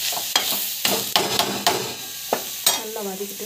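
Vegetables sautéed with asafoetida and salt in a pan, heard as repeated sharp scrapes and stirring knocks over a steady soft sizzle, close and moderately loud with no talking.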